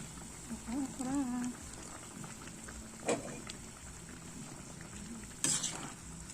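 Okra dropped into a pot of boiling pork sinigang and stirred, with a steady bubbling simmer, one stirring clatter and a sharper splash near the end, alongside a brief hummed voice.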